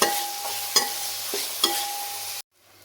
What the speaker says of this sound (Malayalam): സവോള അത്യാവശ്യം നല്ലോണം തക്കാളിയും ഒക്കെ വഴണ്ട് വന്നിട്ടുണ്ട്